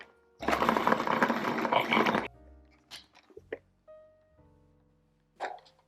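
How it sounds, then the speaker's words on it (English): Food processor whirs loudly for about two seconds while blending plant-based cookie batter, then stops, followed by scattered clicks, taps and scraping noises. "you're going to have to probably spin it and scrape it down, spin it and scrape it down quite a few times until you get that really nice cookie batter texture"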